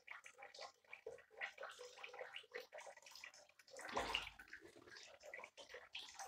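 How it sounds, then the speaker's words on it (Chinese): Monkey swimming and splashing in bathtub water, with irregular sloshing and gurgling splashes, close and faint, and a louder splash midway; a voice talks quietly in the background. "这是猴子，猴子游泳。"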